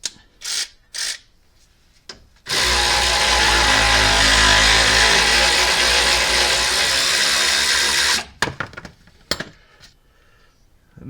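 A power tool removing a bolt under a 2005 Ford F150 during a timing system rebuild: a few clanks, then about six seconds of loud continuous whirring close by, followed by metallic rattles and clinks.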